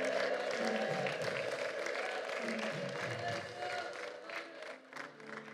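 Applause from a church congregation at an Amharic-language worship service, with ululation riding over it. Dense, steady clapping and cheering fill the whole stretch, loud and close, with no speech on top.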